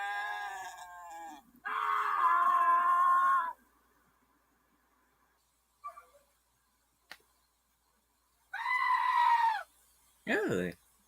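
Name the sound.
goat screaming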